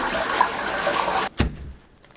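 A toilet's rushing water, picked up by a lavalier mic recorder, fills the first second before cutting off with a dull knock, leaving a quiet, faintly hissing room.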